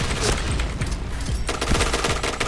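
Automatic gunfire in the shooter Point Blank aimed at a teammate, a steady rapid rattle of shots close up and continuous throughout the short stretch.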